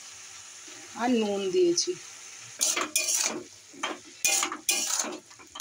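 Fish head and roe with turmeric, coriander powder, cumin powder and chili frying and being stirred in a pan for a snake gourd curry: scraping, sizzling bursts in irregular clusters after someone speaks briefly.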